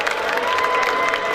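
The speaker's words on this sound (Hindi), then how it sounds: "इनके लिए भी जरा जोर से ताली बजाइए।" Loud crowd applause with cheering and children's shouts for a young girl at a school annual function, a dense, steady roar of clapping throughout.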